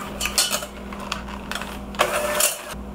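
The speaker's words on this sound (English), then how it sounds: "And now we're beating this until everything is nice and combined for like 1-2 minutes." Coconut oil and sugar are beaten together in a bowl, a steady mechanical whir with clattering, rattling scrapes against the bowl running throughout, close and continuous.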